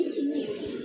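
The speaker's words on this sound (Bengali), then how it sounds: "খুবই সুন্দর এক জোড়া কবুতর, অ্যাক্টিভ আর ফ্রেশ" A pair of pigeons offered for sale coo softly nearby, a brief low throaty call lasting under a second with no speech.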